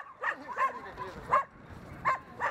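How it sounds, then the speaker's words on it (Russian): Dogs at an animal shelter on the edge of a town near a forest bark and yip in short, spaced bursts at moderate distance over a low background. "В вольерах уже разместили больше 100 собак."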